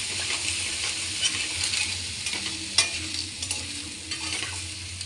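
Papaya seasoned with salt and turmeric sizzles steadily in a hot pan while a spoon scrapes and stirs it in repeated strokes, close and continuous, with no talking.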